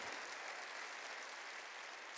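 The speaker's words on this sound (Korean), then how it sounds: "깨달았으면 박수 치라고" Church congregation clapping during a sermon, a faint, even wash of applause heard from a distance with no voices over it.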